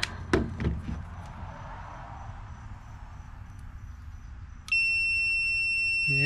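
A TESMEN TCM-300D clamp meter gives a steady high-pitched continuity beep that starts suddenly and holds tone near the end, after some soft handling clunks and quiet background.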